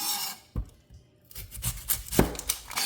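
A knife chops an onion on a cutting board, a few separate thuds and slicing scrapes, close and fairly loud, with short pauses between cuts.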